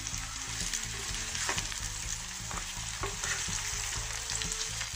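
Previously fried chicken is stirred into onions in a hot pan, a loud steady sizzle broken by regular spatula scrapes and knocks against the metal, close up and without talk.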